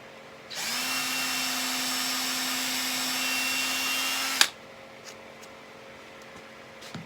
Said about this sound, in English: So we'll drill